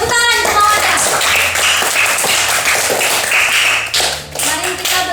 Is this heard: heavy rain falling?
no